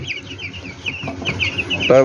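Farm chickens, young birds kept in a multi-tier poultry setup, cluck repeatedly at close range. A louder, buzzing call closes the sequence near the end.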